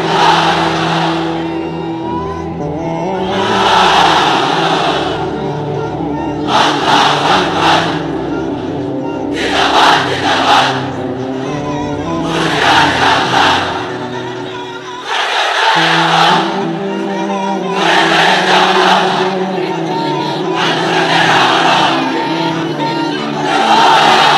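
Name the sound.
crowd chanting takbir slogans at religious gathering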